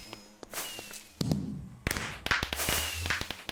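Fireworks going off in Minecraft, in a series of sharp bangs, pops and crackles, some near and some farther off, spread irregularly over a few seconds.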